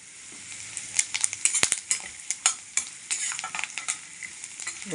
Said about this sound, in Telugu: ఎర్రగా వేగనివ్వాలి